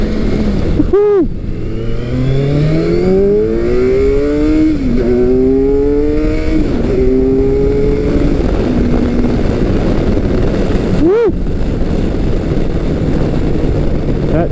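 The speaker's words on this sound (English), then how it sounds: "That Ninja motor comes on strong" A Kawasaki adventure motorcycle with a Ninja engine accelerates hard, its exhaust note climbing through several quick gear shifts, loud and close over steady rushing wind noise, then dropping back to a cruising drone.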